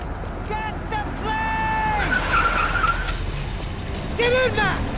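In the game Max Payne 3, a car skids and drives off, with repeated tire squeals and a revving engine; a voice shouts between the squeals.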